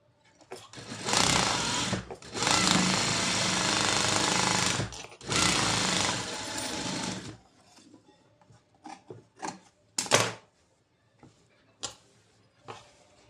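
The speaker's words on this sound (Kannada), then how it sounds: "ಇಲ್ಲೊಂದು ಟಾಪ್ ಸ್ಟಿಚ್ ಹಾಕ್ತೀನಿ." A sewing machine top stitching a blouse, running in two loud, fast, rhythmic bursts of needle chatter, followed by quieter scattered clicks and handling noises.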